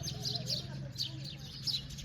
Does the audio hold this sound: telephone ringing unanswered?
no